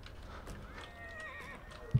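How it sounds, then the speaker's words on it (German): A horse whinnies in the video game Hunt Showdown, a rising and falling neigh that holds for about a second over low rumbling game ambience, followed by a sharp thump at the end. "Ja, hört auf zu wiehern."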